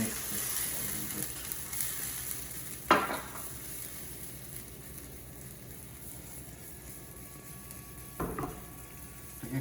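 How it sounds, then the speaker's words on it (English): Spice paste frying in hot oil seasoned with black cumin, stirred in a pan: a steady low sizzle with two louder scraping stirs, one early and one near the end, and no talking. "So now I'm going to put this paste here. And mix this a little bit."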